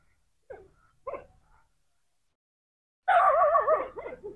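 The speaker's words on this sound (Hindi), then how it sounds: "तो अभी ये चिल्लाना शुरू हो गए हैं" Dogs bark at night: two short, separate barks, a pause, then a louder burst of overlapping howling and yelping from more than one dog, fairly close.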